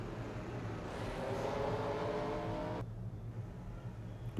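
Pace car engine in a NASCAR-style racing video game at Michigan, a steady loud drone that rises in pitch and then cuts off sharply near the end, leaving a low rumble, with no talking.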